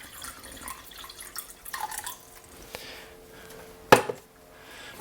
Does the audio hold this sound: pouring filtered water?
yes